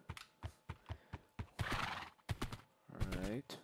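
Minecraft horse whinnying with a long, rising neigh and a second short one, amid a steady run of clip-clopping hoofbeats, close and moderately loud; no talking over it.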